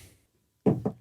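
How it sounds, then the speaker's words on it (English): Knocking on a door at 3 a.m., a few sharp raps in quick succession arriving after a short near-silence, close and fairly loud, with no voices. "You hear a knocking on your door."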